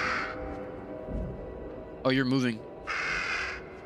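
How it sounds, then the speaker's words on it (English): A crow caws inside the horror video game Little Hope, two short harsh calls standing out briefly amid ambient game sound while people talk over it. "there's a crow"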